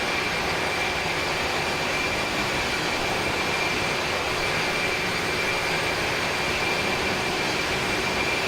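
An inibuilds Airbus A300 freighter in a flight simulator game, with jet engines giving a steady, dense, even roar that stays unchanged and alone with no talk.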